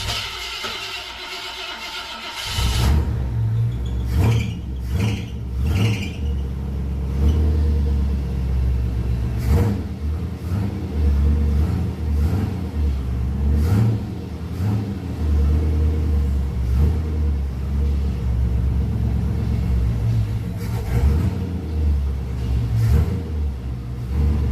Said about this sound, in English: So I'll start the engine.